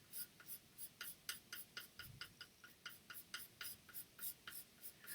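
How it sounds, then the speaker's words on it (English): An ebony pencil hatches on paper, making rapid rhythmic scratchy strokes about three per second, close and quiet, each stroke a short crisp rasp, with no voices. "through hatching with this ebony pencil is that it's going to start to fill in."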